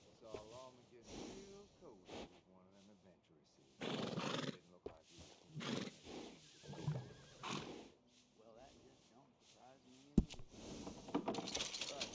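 Horse whinnies and snorts in the Red Dead Redemption II video game, mixed with hoof clops and bursts of breathy noise, heard in between stretches of speech.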